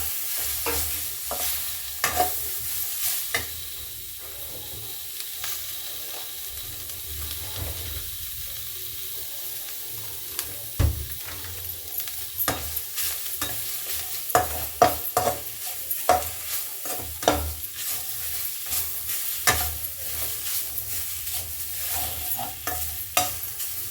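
Grated coconut frying and being stirred in a pan for rural-style mutton sambar: a continuous sizzle with scraping spoon clicks, close and moderately loud, with no talking.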